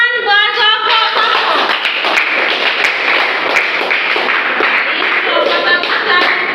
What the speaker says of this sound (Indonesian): berikan tepuk tangan buat kelompok 1